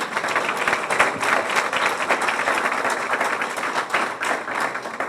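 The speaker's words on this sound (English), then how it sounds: "let's give that a round of applause" A State of the City audience claps steadily for a sheriff's reelection, the broad crowd applause holding at an even, moderate level from start to finish with no voices over it.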